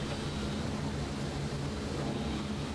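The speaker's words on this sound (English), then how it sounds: "I can hear an old engine note" Steady, broad drone of a B-17 bomber's piston engines in a flight game, constant and fairly loud with a faint low hum running underneath, no talking.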